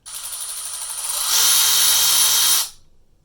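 Milwaukee M12 3/8-inch cordless ratchet runs on its variable speed trigger, a whining motor buzz that climbs in pitch and loudness midway, holds steady, then cuts off abruptly.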